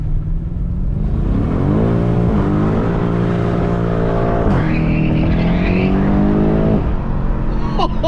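A car engine revs and accelerates up close and loud, its pitch rising, dipping and climbing again over several seconds, with a voice briefly audible.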